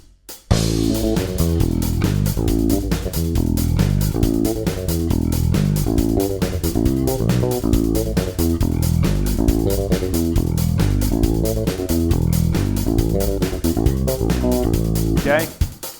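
Live 1991 tour version of the bass riff at a fast 137 bpm, a busy, driving bass line over crisp drums, loud and unbroken after a short silent start, stopping suddenly near the end.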